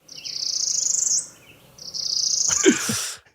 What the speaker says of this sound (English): Pablo, that song that you just heard, that siren song, is the sound of your very own new nemesis bird.